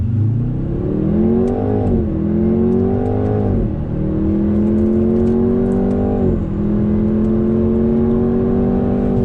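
A 2020 Jaguar F-Type Checkered Flag Edition engine revs hard through rising pitch sweeps from a standstill, with several quick gear shifts as it accelerates, loud and close throughout.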